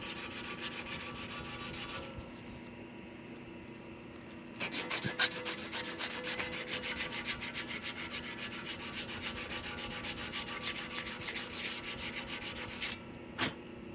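Rust on a cracked bike frame is sanded by hand in a workshop, giving steady, close scratchy rubbing strokes that stop briefly, resume for a long continuous stretch, then end with a couple of sharp knocks.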